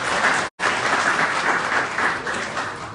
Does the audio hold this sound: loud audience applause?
yes